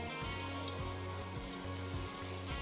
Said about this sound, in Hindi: मसाला भुन गया